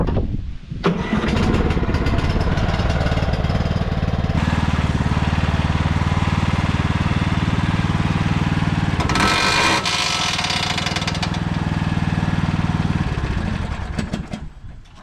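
A new red riding lawn mower's engine runs steadily and loudly close by, a continuous mid-pitched drone with a brief change in tone partway through before it settles back to the same even roar.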